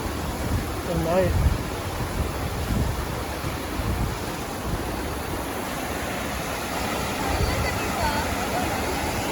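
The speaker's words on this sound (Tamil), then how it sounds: "இங்கே ஒரு ஃபால்ஸ் இருக்கு." Steady rushing water from Bassi Falls on a forest hike in California, a continuous broadband roar with some wind buffeting on the microphone and brief voices early on.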